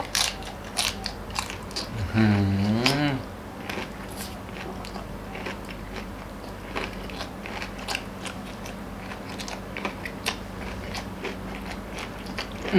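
Crispy squid bitten near the mic, giving a few sharp crunches early on, then a short hum of enjoyment, followed by softer, steady chewing with small crackles over a quiet background.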